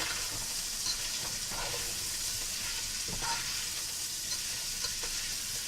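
Pork and onion frying in oil and being stirred in a pan for a Filipino pork afritada stew: a steady close sizzle with occasional scrapes and stirring clatters, no talk.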